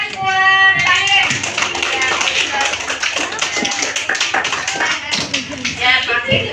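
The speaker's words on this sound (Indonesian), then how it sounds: "Ya, tepuk tangan buat Pakai." Primary-school pupils at SDN Sungai Miai 11 clap in a classroom for a classmate who made instant noodles. The clapping is close and loud, with a brisk, uneven rhythm, mixed with children's voices and some shuffling.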